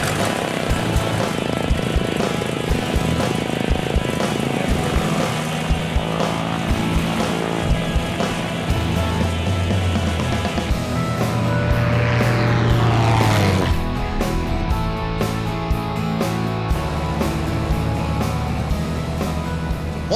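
A propeller airplane drones steadily over Fraser Island, a loud, sustained engine hum with a rising and falling tone midway, heard from close by.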